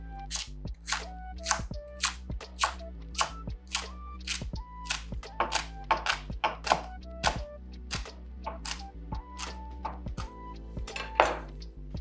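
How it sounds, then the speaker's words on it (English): A knife chops roughly through a quartered dumpling-filling ingredient on a cutting board, giving a long run of close, fairly even thunks with no talk. "I'm gonna cut it again in quarters, and then we're just going to chop this roughly"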